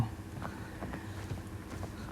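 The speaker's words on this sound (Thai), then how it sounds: "มีเสียงเท้าอยู่หน้าเรา" Rapid, steady footsteps patter along under a constant game-like background hum, with faint talk mixed in, in the shooter game Arena Breakout.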